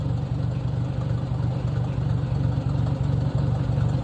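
A 1953 Ford Jubilee tractor engine runs steadily with the PTO engaged and no implement attached, a loud, close, even low chugging idle holding for the whole stretch with no voices.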